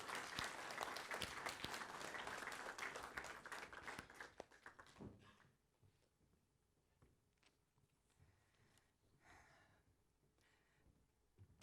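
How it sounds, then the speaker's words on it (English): A church congregation claps for the helpers after a sermon, with loud, dense applause for about four seconds that quickly fades into quiet room sound with a few scattered claps and small noises. "Can we give a round of applause to our helpers?"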